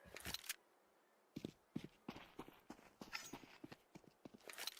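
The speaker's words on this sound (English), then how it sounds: "footsteps, they've been heard" Footsteps in a Counter-Strike-style esports match, a series of quick, sharp, irregular steps at moderate distance, fairly faint, with a short pause before they resume.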